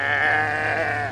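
A person imitates a goat near a herd of goats in the Djanet desert, Algeria, with a single wavering, nasal bleat held for about a second, close and fairly loud.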